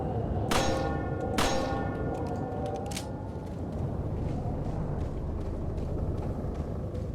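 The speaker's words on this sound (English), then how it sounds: "I guess maybe I can first ring this bell one more time." A bell in Resident Evil 4 is struck twice in quick succession and then once more, each ring loud with a bright metallic clang and a lingering tone, over a low ambient rumble.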